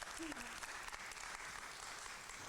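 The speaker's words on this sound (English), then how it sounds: "can you please give a warm round of applause to Karmen and our speakers?" Warm audience applause at a Portland startup community Pride 2025 event: steady, dense clapping from a crowd fills the whole short stretch at an even level, with some voices mixed in.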